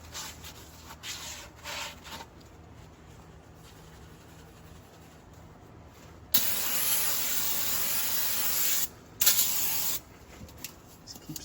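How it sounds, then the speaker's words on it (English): Spray of water hitting the underside crease of an older Prevost motorhome, a steady broad hiss lasting a few seconds, cutting out and resuming briefly, close and fairly loud. "Just keep spraying that little crease on the bottom, that little lip, until no crap comes out of it."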